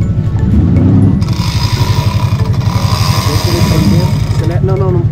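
A motorcycle engine revs and drones steadily up close, loud and continuous, as the rider accelerates straight ahead during a training exercise for older riders.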